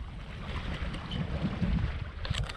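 A sailboat moves through open water with a worn sail, giving a steady rush of water and wind noise that swells in the low range, with brief stronger gusts near the end.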